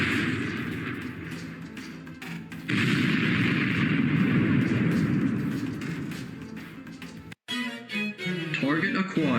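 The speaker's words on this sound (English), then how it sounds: "Launching the missile in T-minus 3" Missile strike from the Air Strikes module in the video game Keep Talking and Nobody Explodes: a long rumbling barrage of blasts and booming fire, a sudden cut, then crackling bursts.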